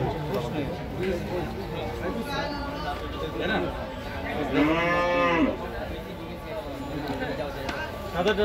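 Cattle moo repeatedly at the crowded Gabtoli cattle market, with one loud, drawn-out call standing out amid steady crowd chatter and people talking nearby.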